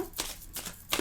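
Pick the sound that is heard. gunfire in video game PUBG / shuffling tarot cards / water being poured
shuffling tarot cards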